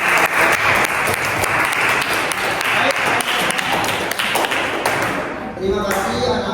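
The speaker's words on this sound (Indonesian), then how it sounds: "Beri tepuk tangan itu abang." Schoolchildren in an Indonesian language classroom clap for a classmate, loud and close, with steady, dense applause for about five seconds that trails off as a voice begins speaking at the end.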